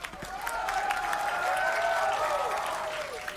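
A large esports arena crowd at a Valorant match between EG and LOUD rises in a sustained, tense roar, loud and continuous throughout, with a faint voice beneath.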